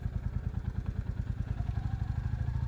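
A Royal Enfield Classic 350 motorcycle thumps along in first gear over steep speed bumps at night, its single-cylinder engine giving a close, even, rapid pulsing beat with no talking.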